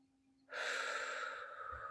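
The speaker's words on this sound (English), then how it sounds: "please take a few deep breaths now" A single deep inhalation during a guided meditation, breathy and soft, rising suddenly and sustained for over a second in a quiet room.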